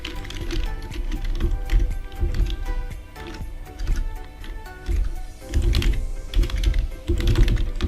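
Keys tapped on a computer keyboard while entering an email address during a software setup, a steady run of close, quick clicks with brief pauses between bursts, no talking.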